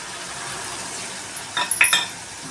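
A utensil stirs tomatoes and salt in a hot pan, with a soft sizzle underneath and a short burst of scraping and metallic clinks close by near the end.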